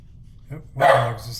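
One short, fairly close bark comes from a dog near a front room where someone is painting. It rises out of a low murmur and ends quickly.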